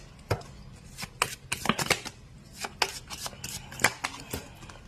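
Tarot cards being shuffled by hand: a string of brisk, papery riffles and slaps in irregular bursts, close and moderately loud, with no talking.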